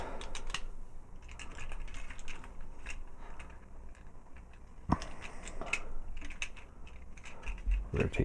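A plastic Transformers DX9 Carry figure is folded and handled, giving a series of close, small plastic clicks, taps and rattles, with a sharper snap near the middle and another near the end.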